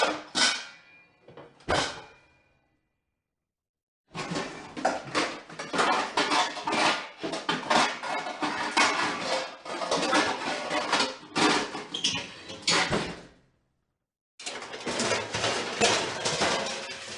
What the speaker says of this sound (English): you will know she's there when she's toying around with the pots and pans, as indicated by the preceding sound effect